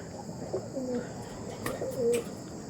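Chennai breed pigeons cooing in short, soft bursts at low volume, with faint chirps in the background.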